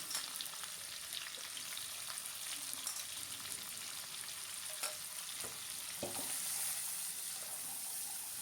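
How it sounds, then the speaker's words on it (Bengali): Onions frying in hot oil and ghee, making a steady, dense sizzle throughout with occasional soft stirring clicks, close and continuous, with no one talking. "খুব ভালো করে পেঁয়াজটাকে ভেজে নেব"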